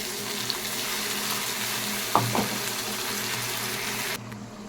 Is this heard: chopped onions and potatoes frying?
yes